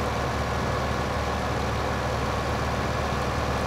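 A tractor engine in the farming game Farming Simulator 15 drones steadily at idle-like revs, a continuous low, even rumble with no pauses and no talking over it.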